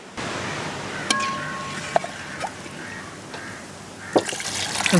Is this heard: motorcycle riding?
no